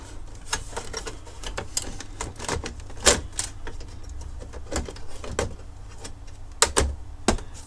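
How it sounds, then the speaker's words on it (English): A laser printer's panel is pushed back into place, giving a series of irregular plastic clicks, knocks and snaps of varying loudness, with a few sharper clunks, heard close up with no talking. "let's get that panel back in"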